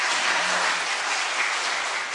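A church congregation gives a steady, full burst of applause during a worship service, dense, even clapping that continues without a break for the whole short clip.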